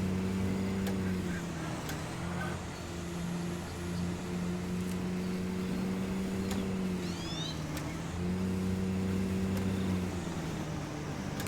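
A car driving in the fishing video game Call of the Wild: The Angler gives a steady, droning engine hum that dips in pitch twice as it goes, continuous and fairly close.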